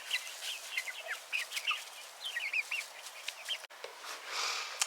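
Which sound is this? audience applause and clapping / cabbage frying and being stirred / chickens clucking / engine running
chickens clucking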